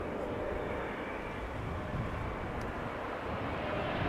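A Singapore Airlines Boeing 747 taxis at Amsterdam Schiphol Airport near runway 06, its engines giving a steady, broad, continuous roar that holds at an even level throughout.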